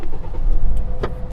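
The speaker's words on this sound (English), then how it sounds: "Let me just start the car." A car engine is started with a foot on the brake, producing a brief crank and catch over a short second, followed by the engine settling under steady road-car rumble.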